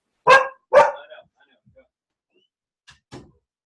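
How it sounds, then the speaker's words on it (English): Two sharp dog barks close by in quick succession, then quiet, followed by a couple of fainter short yips. "I need to let the dog out of the room so she doesn't keep barking"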